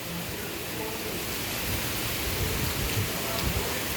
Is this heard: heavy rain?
yes